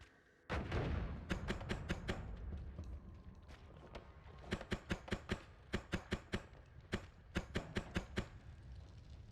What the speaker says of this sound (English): lot of explosions going on here